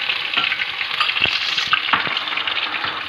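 Ginger garlic paste with Kashmiri chili frying in hot oil for restaurant-style dal fry, a loud, close, continuous sizzle with bursts of spattering and a few stirring scrapes, no talking.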